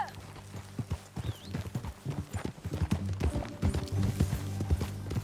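Horse hooves clip-clop at a walking pace in Red Dead Redemption 2, a steady close rhythm of hoofbeats with occasional game sounds and brief low voices mixed in.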